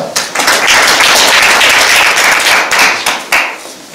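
An audience at a civic policy debate forum claps to greet the speaker. The applause is close, loud and steady for about four seconds, with a few sharper claps standing out before it trails off.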